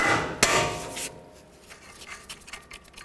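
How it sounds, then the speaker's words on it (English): A single sharp metal hammer strike rings out on a Chrysler Sebring strut bolt, followed by quieter scraping and tapping, close and fairly faint. "I have a nice flat surface to hammer on and I don't damage the threads."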